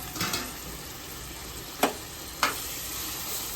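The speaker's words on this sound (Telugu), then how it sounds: "ఇగండి నూనె మరిగింది, ఉల్లిపాయలు వేసేస్తున్నాం." Chopped onions frying in hot oil for a Nellore-style fish curry give a steady, close sizzle, with two sharp clicks as the spoon strikes the pan.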